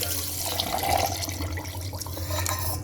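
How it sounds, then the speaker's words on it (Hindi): Water poured into a blender jar already holding chopped peach and mango with sugar, a steady close splashing and trickling pour lasting a few seconds with no talking. "और मैं 2 गिलास पानी इसमें ऐड करूंगी।"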